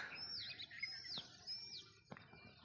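Birds on a farm with coconut trees and vineyards, giving a few faint high chirps and thin descending whistles in quiet open air, distant and sparse.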